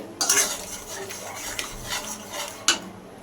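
A spoon stirs and scrapes through yogurt mixed with fried ridge gourd and slit green chillies in a metal pan, giving close, uneven swishes and clinks with a sharper knock near the end.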